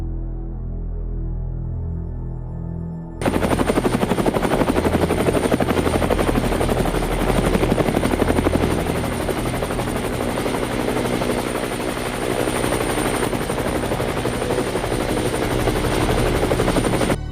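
Helicopter gunships arrive, a loud rapid rotor chop bursting in over a low rumble and staying close and relentless to the end.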